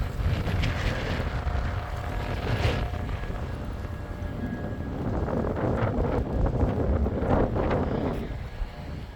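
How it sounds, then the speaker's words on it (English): Outdoor wind buffets the microphone with continuous low rumbling gusts near a residential community's pickleball courts and pool, rising and falling throughout with no talk. "it's a little windy here today"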